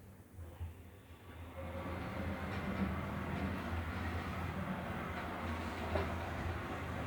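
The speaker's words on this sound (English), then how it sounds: "These are a set of modernised Otis Evans lifts." A modernised Otis Evans lift travels downward, giving a steady, fairly loud low rumble and motor hum with a faint rattle, a soft knock near the start and a brief thump toward the end.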